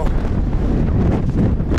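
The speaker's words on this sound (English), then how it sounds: "Very, very windy." Gusty wind buffets the microphone at a fishing port in Kuala Perlis, Malaysia, with a loud, continuous low rumble and rustle, ebbing and surging throughout.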